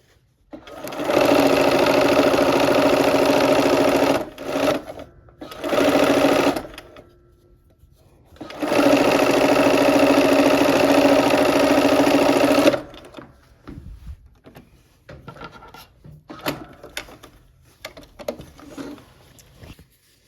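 A sewing machine stitches borders onto a cherry blossom quilt, running in several steady bursts of different lengths separated by short pauses, followed by quieter fabric handling and small clicks.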